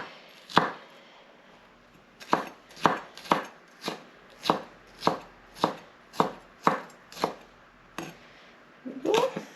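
A knife chops chilli on a cutting board for tacos, a close series of about a dozen crisp, evenly spaced thuds with a brief scrape at the end.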